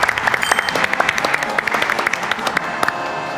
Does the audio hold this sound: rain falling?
no